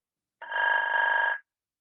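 A CaptionCall caption phone on ringtone pitch 4 gives a single sustained electronic ring, roughly one second long, bright and isolated in a quiet room.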